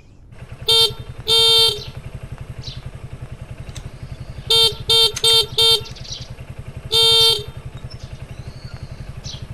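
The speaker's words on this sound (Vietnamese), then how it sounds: "Tôi nghe con bấm còi là tôi chạy ra liền đó." Vehicle horn honking in a series of short and longer blasts, some in quick bursts of three, over a low idling engine rumble nearby.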